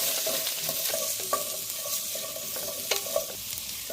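Onions and green chilli frying in a pan for a Karnataka-style mutton masala, with a steady sizzle and repeated scraping clicks of a spatula stirring throughout, fairly close and with no talk.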